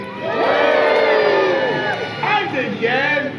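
Castle audience cheering for the winders lifting about 7 tons at Warwick Castle, a loud burst of crowd shouts and children's yells rising together, then a second ragged wave of whoops.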